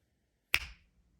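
A single crisp finger snap rings out close and loud, then decays quickly into near silence.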